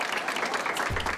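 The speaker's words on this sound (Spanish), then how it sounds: "¡Un aplauso, por favor!" Dense audience applause at a televised comedy show auction segment, a brief continuous burst of clapping from a crowd.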